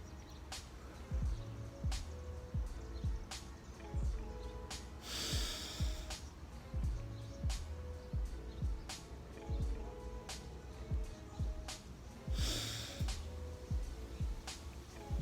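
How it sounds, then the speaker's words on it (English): A person taking five deep breaths in through the nose and out through the mouth, each long inhale and exhale rising and falling in a slow, even rhythm, close and unaccompanied by talk. "Just give me 5 breaths, 5 in and out, in through your nose, out through your mouth"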